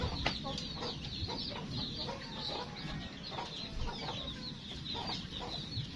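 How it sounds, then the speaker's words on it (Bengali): Chickens on a poultry farm hit by a viral outbreak, clucking steadily and fairly close throughout, a dense overlapping flock chorus with scattered louder calls and no talk. "খামারে আমার অনেক মুরগি আছে বিভিন্ন জায়গায়"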